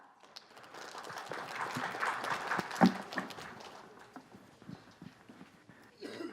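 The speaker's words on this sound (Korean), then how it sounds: "큰 박수 부탁드립니다" An audience at a Korean development-cooperation conference session gives scattered, uneven claps that thicken into a modest burst, then thin out to sparse taps near the end.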